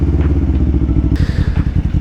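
A Kawasaki Ninja 500R motorcycle engine runs close by with a loud, rapid, throbbing pulse that stays steady throughout, with a brief rise in brighter mechanical noise partway through.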